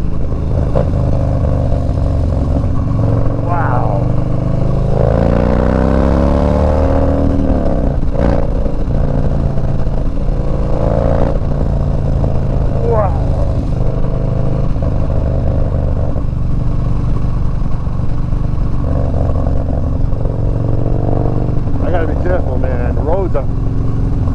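A Harley FXDB Dyno with a 103 engine and Woods TW-222 cam rumbles and revs, loud and close, with rising and falling engine pitch over a steady throbbing idle; a voice talks intermittently over it.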